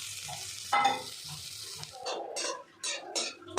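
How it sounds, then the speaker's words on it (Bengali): Beto greens frying in fish oil in a pan are stirred, with soft sizzling under a series of scraping, clattering stirs of the spoon against the pan, close up and with no talking. "এবার মাছের তেলটা সব দিয়ে নাড়িয়ে চাড়িয়ে নামিয়ে দেবো।"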